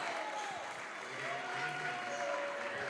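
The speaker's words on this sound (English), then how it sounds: "See lots of applause here from the Fairfield crowd" A Fairfield crowd applauds at a men's varsity high school basketball game against Lakota East after a made free throw. The clapping is soft, distant and continuous, with a voice talking over it.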